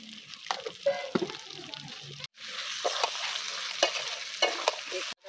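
Potatoes sauté in spice masala with a little sugar for Kashmiri aloo dum, sizzling over low heat while a spoon scrapes and stirs in repeated strokes, with two brief breaks in the sound.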